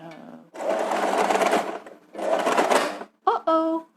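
A sewing machine stitching free motion embroidery runs in two long fast bursts, loud and close, followed by short stuttering bursts as it slows and catches.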